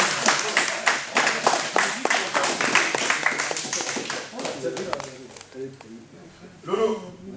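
A small group claps for a karate belt recipient at a ceremony, a crisp, fairly close round of individual claps that thins out midway, and then people talk.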